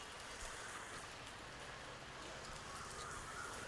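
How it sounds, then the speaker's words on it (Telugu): Steady, soft rain falls at a Sri Subrahmanyeswara Swamy temple in Andhra Pradesh, a continuous even hiss with no distinct drops standing out and no voices. "యాక్చువల్లీ ఇక్కడ మొత్తం వర్షం పడుతుంది"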